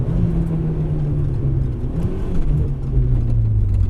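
A turbocharged 1991 Mitsubishi Eclipse GSX making about 450 wheel horsepower pulls hard under boost in fourth gear, its steady low engine drone rising and rolling throughout, loud and close with no talk.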